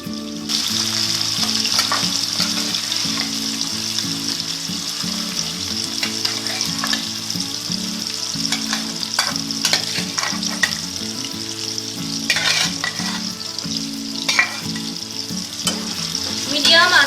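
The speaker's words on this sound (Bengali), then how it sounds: "তেলটা গরম হয়ে গেছে আমি মাছগুলো আগে প্রথমে ভেজে নিচ্ছি" Steady, loud sizzling of prawns frying in hot mustard oil, with occasional crackles and spatters running throughout, no voices.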